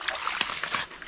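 Clear mountain spring water trickles and splashes beneath a mountain in irregular small gurgles and drips, fairly close and moderate in level.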